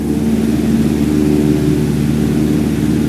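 Steady propeller aircraft engine running at about 2,300 RPM in Microsoft Flight Simulator 2020, a continuous loud droning hum with low harmonic tones and no talk.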